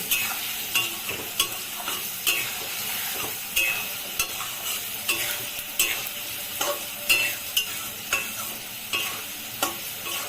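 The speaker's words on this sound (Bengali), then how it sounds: "এখন এগুলো দিয়ে একটু নাড়ব" Spices with Kashmiri chili powder being stirred in a frying soyabean and potato curry, a steady close sizzle with regular scraping strokes of a spoon against the pan, about one every second, no voices.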